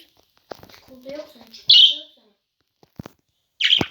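A few short, sharp bird chirps ring out between soft murmured speech, with quiet pauses in between.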